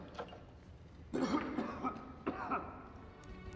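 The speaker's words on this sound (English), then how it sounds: "coughing at the end of the sneak peek" A few soft coughs, a short throaty burst followed by two quieter ones, heard faintly in a muffled, distant-sounding clip from The Walking Dead season 8 episode 15 promo.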